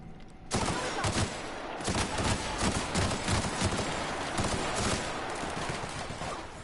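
Rapid volleys of gunfire from The Outer Worlds crack in dense, irregular bursts after a brief quiet start, loud and continuous with no talk.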